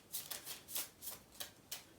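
Tarot cards shuffled by hand during a candle magic reading, giving about seven soft riffling bursts in an uneven rhythm, close and fairly quiet, with no talking.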